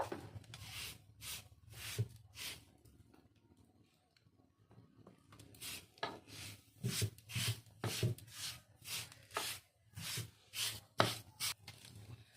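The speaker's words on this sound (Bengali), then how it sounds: "এখন আমি একটু সর্ষের তেল দিয়ে বাটিগুলো মুছে নেব" Bowls for chitoi pitha being wiped with mustard oil in a village kitchen: a run of repeated rubbing strokes, close and moderately loud, with a short pause in the middle before the strokes resume more quickly.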